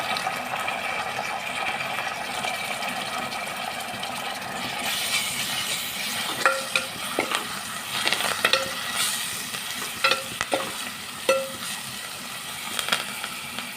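Ginger garlic paste and turmeric fry in hot oil while being stirred, a steady sizzle broken by scattered spoon scrapes and taps against the pan in the second half, close.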